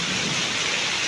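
Heavy rain pours down in Bangalore, a dense, unbroken roar of drops hitting surfaces, loud and close with no voices.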